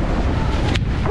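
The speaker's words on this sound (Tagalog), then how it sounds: "Ang lakas ng hangin" Strong wind on an island buffets the microphone in a steady, loud rushing roar with brief gusty surges and no voices.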